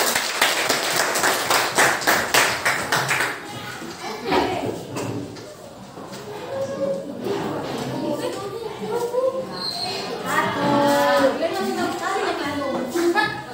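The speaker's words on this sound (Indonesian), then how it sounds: "kasih tepuk tangan dong buat temannya." Classroom applause for a classmate during a student community-service session at a university, a burst of clapping over the first few seconds, then children and adults talking in the room.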